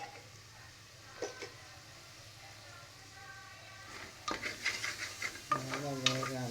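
Food with ghee and a pinch of salt is stirred in a pan, a soft sizzle under spoon scrapes and clinks that grow louder and busier toward the end, where a faint voice also comes in.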